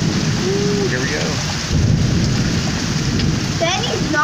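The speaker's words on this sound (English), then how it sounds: "There hasn't been a storm like this in a long time." Heavy rain pounding down during a thunderstorm in Houston, with low rumbling thunder rolling through the steady downpour and faint voices underneath.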